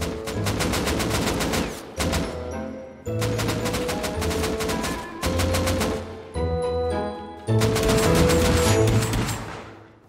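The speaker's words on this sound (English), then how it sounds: "provided that I get to shoot a few rounds of this thing" Automatic gunfire in Rust Console Edition during solo PVP play: several loud, rapid bursts of shots, each lasting a second or two and separated by short gaps, close and sharp.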